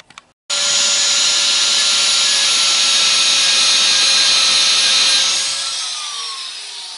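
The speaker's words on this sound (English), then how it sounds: "We ground it nice and flat." A loud abrasive grinding of metal flat on a Honda ATC200S front suspension part starts abruptly after a brief knock and holds steady for several seconds before trailing off as the tool winds down.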